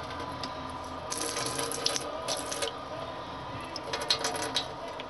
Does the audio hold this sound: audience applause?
no